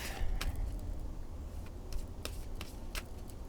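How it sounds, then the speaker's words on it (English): Tarot cards being shuffled by hand at close range, with soft riffling and brushing sounds in uneven bursts over a low background rumble, no talking. "One more shuffle, please."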